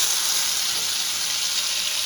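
Coriander and green chili paste hits a hot pan for a fish curry, giving a loud, steady hiss and sizzle that carries on without a break.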